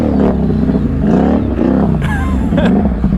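A Can-Am Renegade G3 ATV engine revving nearby, a loud rough throbbing that rises and falls in pitch through several quick throttle blips.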